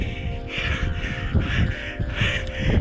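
Crows cawing repeatedly nearby while preying on hatchling turtles on a beach, loud harsh calls overlapping in quick succession above a rushing outdoor background.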